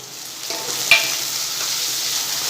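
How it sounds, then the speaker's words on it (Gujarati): Chopped onion and tomato sizzle steadily in a hot pan, a close, continuous frying hiss with a faint clink of stirring near the start. "હવે એમાં 1 ટામેટું એડ કરી દઈશું"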